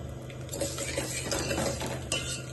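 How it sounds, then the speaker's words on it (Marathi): Vermicelli roasts in ghee in a pan for shevai kheer, with a steady low sizzle and frequent metal spoon scrapes and clinks against the pan, close by and without talk. "शेवयाची प्रमाणे चांगली रोस्ट करून घ्यायची आहे, भाजून घ्यायची व्यवस्थित."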